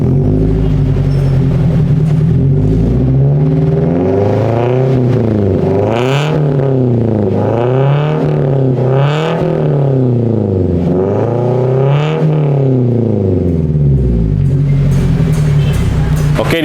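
A petrol Toyota Innova Reborn Type Q fitted with a Legamax exhaust is revved repeatedly up close. The loud engine climbs and falls in quick rhythmic blips over a deep rumble for about seventeen seconds.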